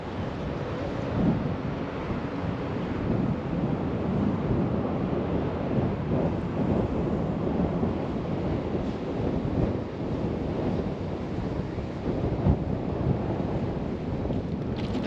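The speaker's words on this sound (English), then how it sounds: "I apologize if it's really windy, but it's really windy." Strong wind buffeting the microphone outdoors near the Texas–New Mexico border on an RV trip: a constant, rough roar with no breaks or voices.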